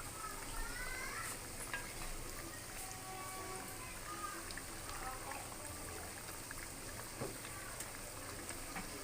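Potato snacks (crispy cutlets) frying in a pan over a low flame, a steady dense sizzle running throughout at moderate, close level with no talk over it.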